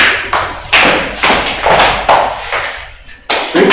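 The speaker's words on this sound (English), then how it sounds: "I want you to give yourselves a round of applause" Audience at a business clinic event in Mbarara clapping and stomping in unison, loud close thuds in a repeating group rhythm, several strong beats with short pauses between sets.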